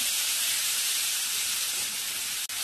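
Tomatoes frying in hot oil, a continuous even hiss of sizzling that stays close and steady throughout, broken by one brief dip near the end.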